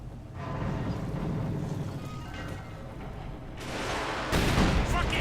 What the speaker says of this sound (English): Panzer IV command tank doing what it can here to bombard the Russian infantry. High explosive rounds.